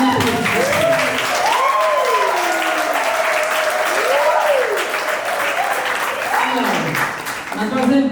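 Wedding guests at a civil marriage ceremony clap steadily for about eight seconds, loud and close, with a voice speaking over the applause throughout.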